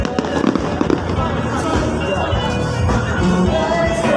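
Fireworks bursting at a festival in Laos, a dense continuous crackle and boom of explosions that carries on without a break, with faint crowd murmur underneath.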